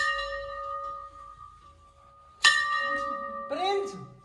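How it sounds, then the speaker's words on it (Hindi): A small puja bell rings with a bright, sustained metallic tone during worship of a new 2024 Maruti Suzuki Brezza LXi petrol car. It is struck again midway, and a voice speaks near the end. "इतनी घंटी ना बजा करो प्रिंस"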